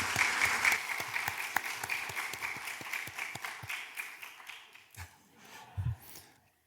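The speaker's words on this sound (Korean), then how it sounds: "우리 박수로 우리 맞아주시면 좋겠습니다." A church congregation applauds together in a steady wash of clapping that gradually thins and fades, ending with a few scattered claps.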